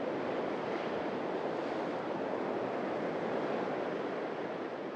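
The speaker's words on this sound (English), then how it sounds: "So the waves are coming right in." Waves come in on a beach on the Isle of Harris, a continuous washing roar of surf with some wind, steady and fairly near.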